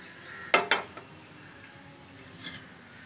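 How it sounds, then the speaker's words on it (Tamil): Two quick metallic clanks of a cooking pot being set down on a kitchen stove, close and fairly loud, followed by a faint scrape a moment later. "ஒரு அஞ்சு நிமிஷம் ஸ்டவ் ஆன் பண்ணி ஒரு பாத்திரத்தை வச்சுக்கலாம்."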